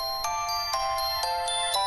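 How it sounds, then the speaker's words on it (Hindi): A phone ringtone chimes in a quick repeating electronic pattern, bright tonal pulses about every quarter second, fairly clear and close over a quiet room, with no talking. "It's ringing."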